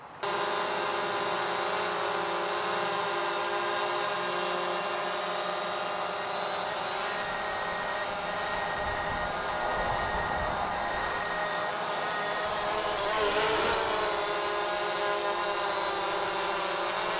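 A DJI Mavic Pro drone hovers close to an obstacle, giving a steady, loud whirring whine with a stable tonal hum that holds nearly unchanged for the whole stretch, with no voices.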